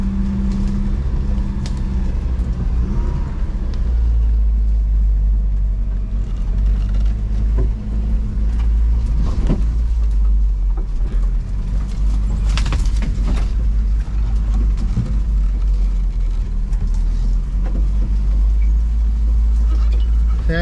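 A 1987 Toyota 4x4 pickup climbs a steep trail in four-wheel drive, its engine a constant loud low drone over rough rumbling and occasional knocks, with some faint talk in the cab.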